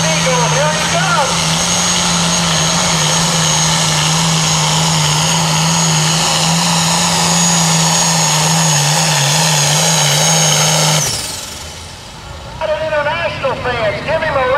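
A pro farm tractor at a pull in Danville, Kentucky roars with a loud sustained engine drone, holding steady before cutting off abruptly near the end, while an announcer talks over it and afterward.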